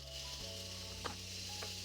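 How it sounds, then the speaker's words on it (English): Pork chops sizzle quietly on a George Foreman electric grill: a steady, faint hiss over a low electrical hum, with a couple of small pops. "You hear that sizzle?"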